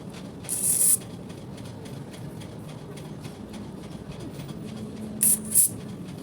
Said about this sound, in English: Go in with my melting spray and apply thin layers to it